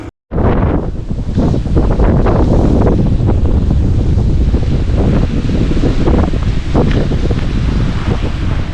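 Strong wind buffets the microphone outdoors at the East Midlands Aeropark, a loud, continuous roaring rumble that starts abruptly and persists throughout with gusty surges and no speech.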